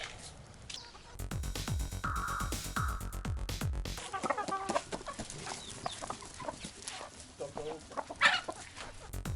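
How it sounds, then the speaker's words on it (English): Chickens cluck and squawk close by while being fed in a village at morning, amid rustling and scattered farmyard noise. "I'm just feeding the chickens using this food."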